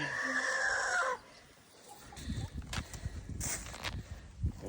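A rooster in a village in the Kukës region gives a brief clucking call at the start, followed by rustling, handling noises and footsteps nearby.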